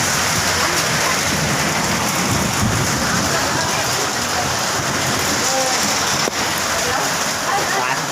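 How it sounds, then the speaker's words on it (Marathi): Heavy rain with hail pours down during a storm with a power cut, a loud dense unbroken roar of drops hammering surfaces, close and constant throughout. "भलता पाऊस चालला"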